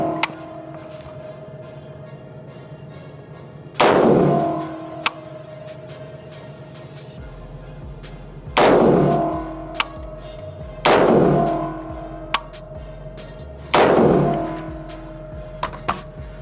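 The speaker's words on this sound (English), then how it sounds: "we will put in the first 5 on this bad boy right here" Five gunshots fired at a target 25 meters away at an outdoor range, each a loud sharp crack with a short decaying tail, spaced a few seconds apart with no talking.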